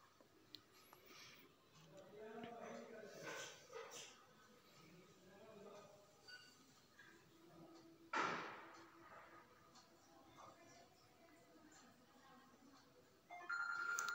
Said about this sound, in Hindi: तो आप लोगों ने सुना कॉलिंग का आवाज़ कॉल आ चुका है